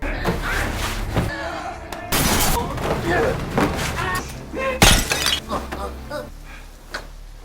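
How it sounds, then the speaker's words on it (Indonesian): A glass door smashed in a film scene, a sudden loud shattering crash with bursts of breaking glass and thuds, mixed with speech and dramatic soundtrack. "Jungdo langsung memecahkan kaca pintu dan segera membekuk Gumnam di tempat"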